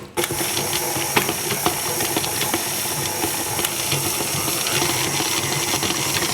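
Stand mixer fitted with a paddle attachment beating cookie dough, a continuous whirring motor hum with faint rhythmic knocks and clicks, close and steady throughout.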